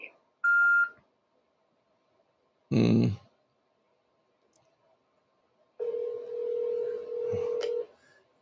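A phone line beeps with short dialing tones, then a long steady ringing tone, with a brief burst of voice in between.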